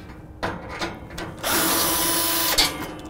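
Power driver backing Torx fasteners out of the back panel of a Rittal TS 8 free-standing enclosure cabinet: short whirring bursts, then a sustained loud buzz of about a second, close and alone.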